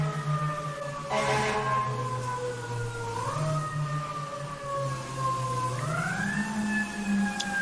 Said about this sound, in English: Oh, the sounds of New York City fire trucks in real life